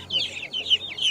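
Chickens and roosters at a poultry bazaar in Kyzylorda give a run of busy, overlapping clucks and short calls. They sound fairly close and keep coming without a break.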